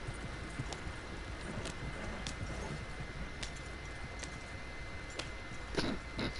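Horse hooves clip-clop on the ground in the video game Red Dead Redemption 2, a steady, evenly spaced series of sharp knocks over a faint ambient bed.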